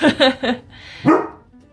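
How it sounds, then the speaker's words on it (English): Several dogs bark in short, loud bursts close by indoors, with three quick barks followed by one more after a brief pause. "The dogs were barking."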